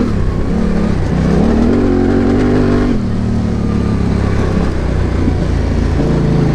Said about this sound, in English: That does sound nice with that pipe in there.